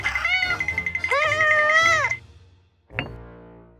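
A cat meows loudly and close up in a kitchen, two long drawn-out wailing calls followed by a short sharp meow after a brief pause.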